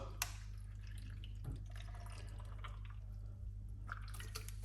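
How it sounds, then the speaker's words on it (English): A thin trickle of water is poured in short spurts into a pineapple, ginger and turmeric juice mix over a low steady hum, with a few soft splashes and drips. "We're gonna put a little bit of water."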